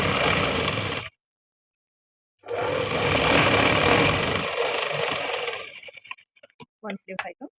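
A sewing machine stitches a blouse sleeve with thread piping in two close, steady whirring runs, the second after a short silence and fading into a few tapping and shuffling sounds.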